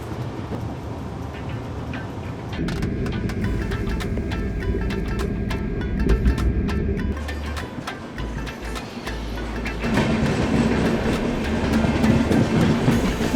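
A train in India rumbles along the rails with rhythmic clickety-clack, loud and continuous, the noise swelling and easing as it rolls on.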